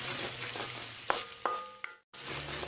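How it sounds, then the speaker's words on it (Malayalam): Ginger, green chili and garlic fry and get stirred in a pan for a chicken dish. A soft sizzle carries on while three distinct spoon taps sound. A brief silent cut comes near the end, and nobody speaks. "ഈ ഇഞ്ചി, പച്ചമുളക്, വെളുത്തുള്ളിയുടെ ചുവപ്പൊന്നും മാറുന്നത് വരെ ഒന്ന് ഇളക്കി കൊടുക്കാം."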